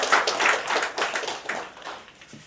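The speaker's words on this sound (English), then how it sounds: "So we can all again give a very loud round of applause together." Applause at an MoU signing ceremony, a smaller group clapping in distinct overlapping bursts that fade gradually over a couple of seconds.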